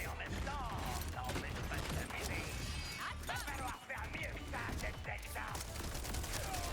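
A grenade explosion in the video game Borderlands 4 cracks out amid dense, continuous gunfire and clattering game action, loud and busy throughout with no clear pause.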